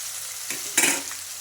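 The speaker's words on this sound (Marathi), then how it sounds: "तर तो पण आता आपण सोडून देऊया। याला थोडं परतून घेऊया।" Green onion and garlic hitting a hot pan to sauté, a quiet hiss that flares into a loud burst of sizzle and crackle, then settles back to a softer fry.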